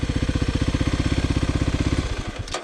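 A 2026 Kawasaki KLX300 dual-sport motorcycle's single-cylinder engine thumps at a steady idle-like rhythm, close and loud, then sputters and dies out near the end as it is shut off.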